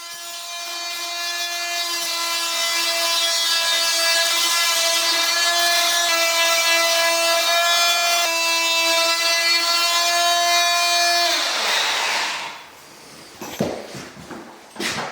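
A new power tool cutting off wooden door shims, a loud steady high whine with a constant pitch for about eleven seconds, then spinning down, followed by a few scattered knocks and clatters nearby.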